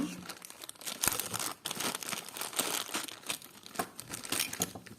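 A plastic packet holding vintage brooches crinkling up close, a busy run of crackly rustles and crunches that rise and fall without pause, with no talking.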